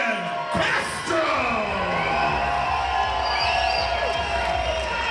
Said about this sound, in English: Big roar of the crowd for Ryan Castro.